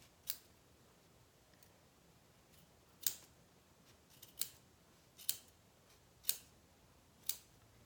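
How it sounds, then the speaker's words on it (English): Good scissors snip around the looped yarn ends of a pom-pom, giving about six to eight crisp, sharp cuts at uneven intervals, close and fairly quiet over a near-silent background. "use your good scissors and find your looped ends and snip around the outside."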